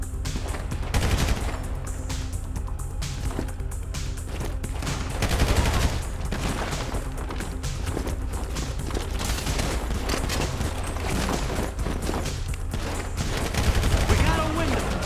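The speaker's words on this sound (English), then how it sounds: "The guns have a pretty nice punch." Weapons fire in first-person GTA 5 gameplay on PC, a dense, near-continuous barrage of loud gunshots and bursts throughout, with occasional voices mixed in.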